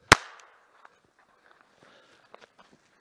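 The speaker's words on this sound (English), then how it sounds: "Quick bang of the pistol." A single sharp pistol bang cracks out on a path during spaniel retrieve training, loud and close, followed by faint footsteps and small rustles.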